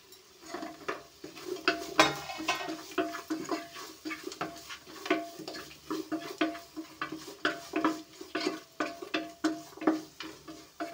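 Onion and green chilli go into a pan of fried masala for Kerala-style coconut rice, with a close run of rhythmic metallic scrapes and clinks of a spoon against the pan and a faint sizzle underneath.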